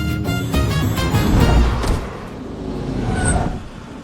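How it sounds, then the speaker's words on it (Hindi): A car pulling over and coming to a stop, its engine rumbling steadily up close, then easing down to a quieter idle with no voices. "तुम गाड़ी रोकोगे जरा?"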